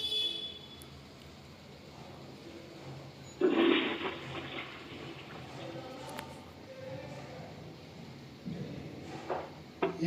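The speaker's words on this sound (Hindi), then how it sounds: "ये देखो पानी अभी साइफन उठाया तो पानी चल रही है।" Water runs and trickles from a ceramic toilet seat's siphon as it is lifted out during plumbing repair, a steady wash with a louder burst of flow near the middle and handling clunks toward the end.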